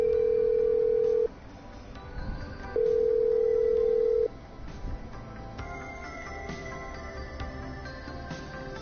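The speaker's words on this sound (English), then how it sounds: "I'm dialing." Telephone dialing in the video game Killer Frequency: two long steady dial-tone stretches broken by short pauses, followed by softer tonal beeps and line sounds, with no talking.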